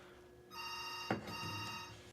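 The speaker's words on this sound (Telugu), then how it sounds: "ఫోన్ వస్తుంది" A phone rings faintly indoors in a home kitchen, a soft electronic ringtone starting partway through, with a brief clatter of handling in the middle and no voices.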